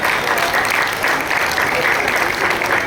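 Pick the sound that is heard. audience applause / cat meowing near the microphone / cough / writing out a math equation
audience applause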